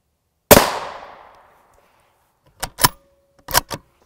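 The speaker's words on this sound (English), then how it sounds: "I'm gonna take a shot at the bottom of the plate where we haven't shot before" A gunshot strikes a Hesco L210 body armor plate: one sharp, loud crack with a short decaying ring, followed after a pause by a few quicker mechanical clicks and clacks.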